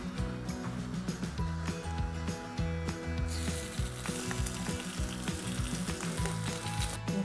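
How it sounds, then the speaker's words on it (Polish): Pieces of turkey sizzle gently in a heated frying pan, with a steady crackling hiss throughout and a few light clinks of utensils, with no talk. "jak nasz indyk nam tutaj dochodzi i delikatnie się podsmaża"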